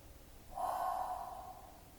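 A single audible breath, a gasp-like inhale and exhale, taken while holding a Pilates bridge exercise, fairly close and rising then slowly fading over about a second and a half.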